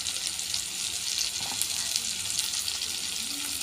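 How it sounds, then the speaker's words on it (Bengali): Ground spices, chili powder and turmeric among them, sautéing with small splashes of water in a frying pan for a soyabean and potato curry, giving a close, steady, even sizzle with no talk. "ভালো করে মশলাগুলোকে কষিয়ে নেব অল্প অল্প জল দিয়ে"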